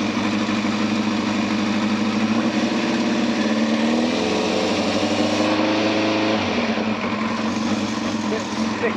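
A Yamaha Thundercat motorcycle engine idles loud and near after a carburettor clean, a steady rumbling burble with slight shifts in pitch as it settles, while someone talks over it.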